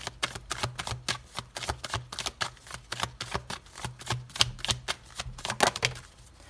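Tarot cards being drawn and handled during a reading: a steady run of quick, crisp card snaps and shuffling clicks, close and fairly loud, with no talking.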